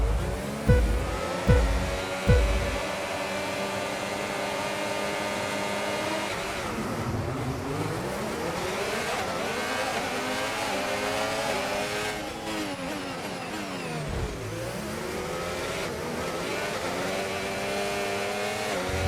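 Formula 1 cars in the F1 25 game launching off the grid at race start, in Miami: engines revving to a loud sustained scream, with gear-change dips as the pack of cars accelerates away together.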